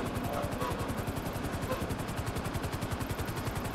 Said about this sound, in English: We got two choppers here.